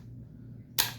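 One short, crisp click from the trigger of a Savage Axis rifle in 6.5 Creedmoor, close and clear near the end after a quiet low hum.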